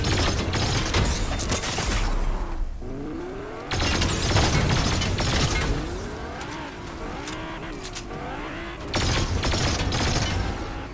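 Car being wrecked in the Fortnite video game, with loud crashing, rattling mechanical noise and bursts of impact that come in waves, cutting out briefly twice before starting up again.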